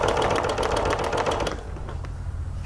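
A Janome MC 11000 sewing machine stitches steadily during ruler work, a dense rapid mechanical whir that runs for about a second and a half before dropping to a quieter hum.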